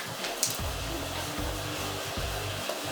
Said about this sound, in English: throw it in the blender.